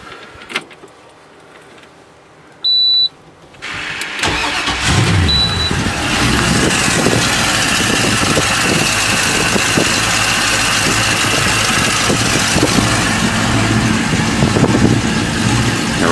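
A low-hours boat outboard motor cranks over after a quiet few seconds, then settles into a steady, fairly loud running drone that holds to the end.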